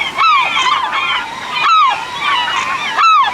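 Seagulls squawk loudly near the Aniva lighthouse in a derelict seaside spot, with three long descending cries and overlapping calls over faint surf.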